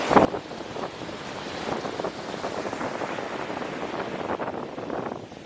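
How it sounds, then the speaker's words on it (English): Strong coastal wind at Punta Sur, Cozumel, roaring steadily across the microphone with gusty buffeting and a sharp thump at the start, surf faintly beneath. "It was really windy, but still a nice breeze"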